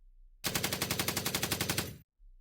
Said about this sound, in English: raising your weapon You rake his body with bullets